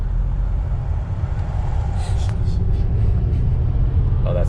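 A Mercedes diesel car, driven again after sitting for 22 years, accelerating with its turbo, giving a steady low engine rumble heard from inside the cabin at constant loudness.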